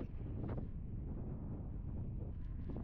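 Steady low roar of strong wind buffeting the microphone, continuous and heavy throughout, with a few brief gusty swells.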